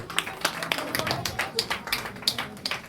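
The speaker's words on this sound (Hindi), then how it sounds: "आइए हम ताली बजा देंगे पास्टर जयवंत के लिए" Applause for a pastor at a Christmas church celebration, a dense run of sharp hand claps spread across the whole stretch at moderate volume, with no talking over it.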